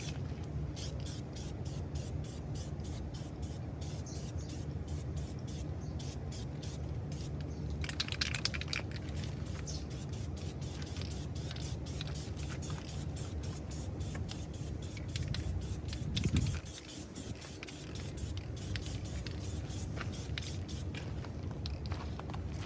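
Spray paint hisses from an aerosol can onto chrome trim on a 2020 Nissan Rogue, a steady sustained spray with small rhythmic clicks and shuffling, close and moderately loud, with no talk.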